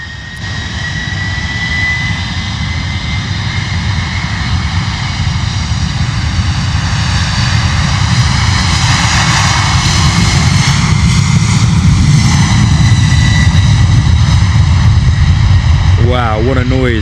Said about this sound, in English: Airbus A300 out the door, off to Milan, spooling up those engines.